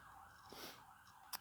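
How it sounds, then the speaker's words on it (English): An emergency siren wails in the background, a steady, distant rising and falling tone lasting through the short stretch, with a brief sharp knock near the end. "Sorry if you can hear a siren in the background."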